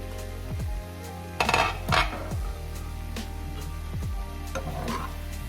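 Skillet loaded potatoes with onion salt and melting American cheese sizzle steadily while a utensil scrapes and clanks against the pan in a few distinct strokes, close and fairly loud, with no talking.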